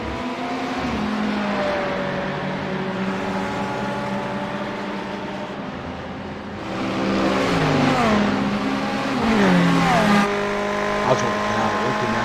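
Race car in a Grand Touring event racing down a long front stretch, engine droning with shifting pitch and rising louder toward the end as it accelerates, with commentary running over it throughout.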